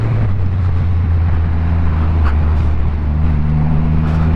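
A custom Triumph Rocket 3 motorcycle, with the world's largest production motorcycle engine, pulls hard in second gear, a close, steady, deep engine drone with wind rushing past throughout.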